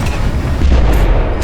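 Char 2C tank cannon firing in War Thunder, a deep, heavy boom rolling through the low end and holding loud for over a second.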